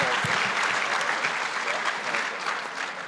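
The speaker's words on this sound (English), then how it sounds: "Give these big coaches a big round of applause" An indoor audience at a hockey panel session gives a sustained round of clapping for the coaches, dense and even throughout, fading slightly at the end.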